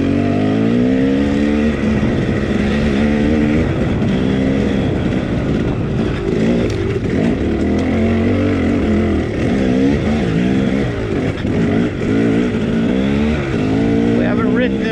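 Several dirt motorcycles riding the San Carlos Trail in dusty summer conditions, engines droning and rising and falling in pitch close by, with a rider talking over the constant motor noise.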